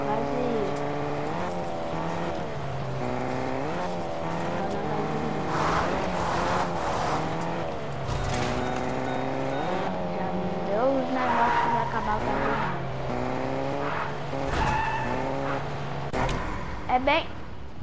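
Car engine in the video game Fortnite revving steadily, with tire squeals and skids as the car turns, heard up close while someone talks over it.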